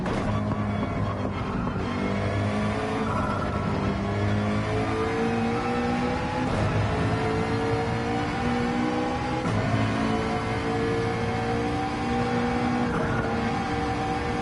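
McLaren GR3 race car engine in Gran Turismo 7 at Laguna Seca, droning continuously with repeated rising revs through gear changes, loud and steady with no talking.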